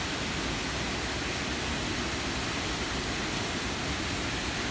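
Devil's Kettle waterfall near Grand Marais, Minnesota, gives a steady, even broadband roar of falling water with no breaks, heard from a moderate distance with no voices.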